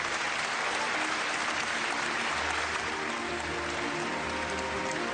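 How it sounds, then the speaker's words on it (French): Dense, sustained applause from an audience at a national awards ceremony as a prize winner is honoured, a steady wash of many hands clapping at even loudness throughout. "Tout le monde peut l'applaudir, bravo à Sabi"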